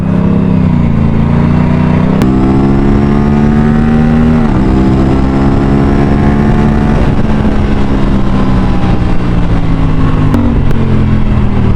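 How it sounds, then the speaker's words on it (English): A BMW S1000 XR motorcycle engine runs hard and loud while ridden, a steady high-revving drone with a few quick pitch drops at gear changes. "My buddy Vignesh is riding my S1000 XR."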